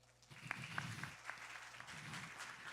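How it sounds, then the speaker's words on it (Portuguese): An audience at an education-funding lecture applauds, a faint, distant patter of clapping that runs steadily throughout with a few sharper claps near the start. "uma salva de palmas para Assis"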